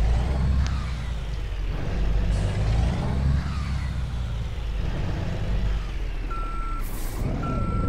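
A simulated Scania truck idles with a deep rumbling engine while a faint, steady reversing beep repeats over it, along with a hiss of air brakes.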